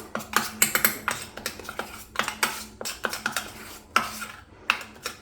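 A spoon clinks and scrapes rapidly against a bowl while mixing a gram flour face pack, a close, brisk series of tapping strokes with no talking.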